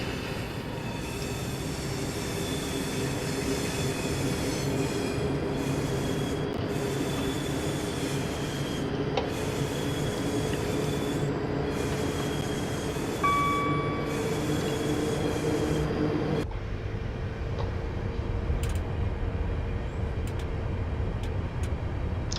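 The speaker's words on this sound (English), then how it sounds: "Here comes our Pendolino." An Avanti West Coast Pendolino train runs along the West Coast Main Line, a steady loud rumble of wheels on rail with faint squeals and tonal whines, heard close and continuous throughout.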